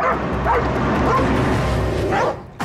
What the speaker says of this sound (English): She starts squeaking and then she starts barking until you get to your destination.